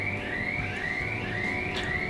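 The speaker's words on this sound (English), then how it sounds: "there's like an alarm going off outside." An alarm sounds outside a window, a steady high electronic tone that sweeps and repeats in cycles of about half a second, fairly loud over a low background rumble.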